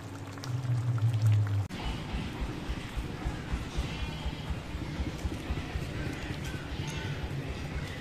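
Water mixed with soaked oil cake poured onto flower plants, a steady splashing and trickling pour that runs continuously at close range after a brief low hum at the start.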